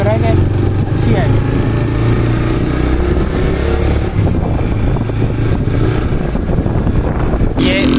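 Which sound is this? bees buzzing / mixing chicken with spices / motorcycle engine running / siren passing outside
motorcycle engine running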